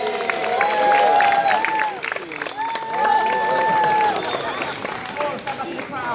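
Audience at an outdoor street performance applauding and cheering, a loud burst of clapping mixed with shouts and crowd chatter that dips briefly and then swells again.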